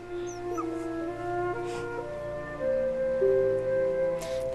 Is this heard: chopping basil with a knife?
no